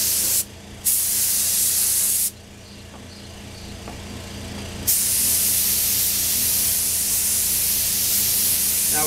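A spray gun applying clear coat to motorcycle parts hisses loudly and steadily, cutting off briefly twice before resuming a continuous, close airy spray.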